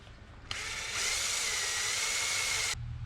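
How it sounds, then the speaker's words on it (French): A battery drill bores a hole during restoration work on a 1967 Toyota Corona RT40, a close steady whine that starts abruptly, climbs in pitch after a moment, holds, then cuts off. "Donc déjà j'arrive à percer à peu près droit visiblement"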